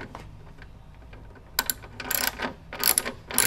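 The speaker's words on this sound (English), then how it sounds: "then we're gonna use a 13 millimeter wrench" A 13 millimeter wrench loosens nuts on the side panel of a GS3 espresso machine, giving soft metallic ratcheting clicks and clinks, sparse at first and then denser, close and fairly quiet.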